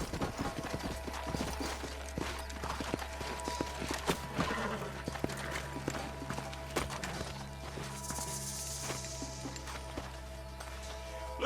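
Horse hooves clop steadily in Red Dead Redemption, a video game set in the Wild West, with a continuous low hum and other game sounds underneath.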